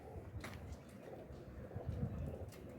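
A Salara Teddy pigeon coos softly and close, its low, throaty murmurs repeating in short bursts amid faint rustling.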